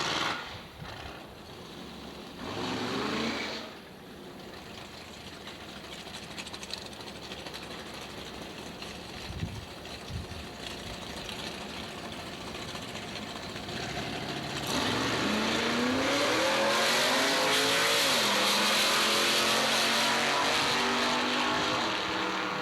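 A 1964-65 Corvette Stingray with a big rear fin drag races at Longhorn, its engine rising from a distant drone to a loud, sustained roar as it accelerates away through the gears.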